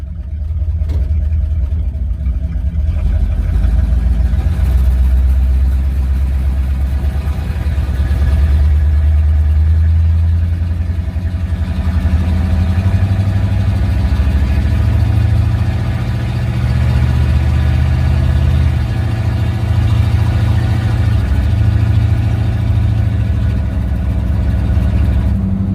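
An old scrapyard vehicle's engine runs steadily after a fuel line fix, a loud low rumble idling and rising into revs throughout, with no talk.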